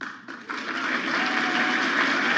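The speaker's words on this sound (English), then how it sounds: "Big round of applause in the room" Sustained applause fills a room, a dense, even wash of clapping that swells after a brief dip and holds steady and loud to the end.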